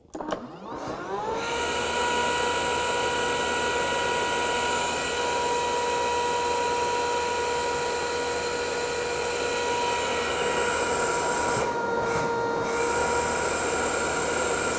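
A Makita XGT 80-volt dust extractor vacuum, the GCU07ZU, powered by two 40-volt batteries, starts up and settles into a loud, steady motor whine with a constant tonal hum, running alone without talk.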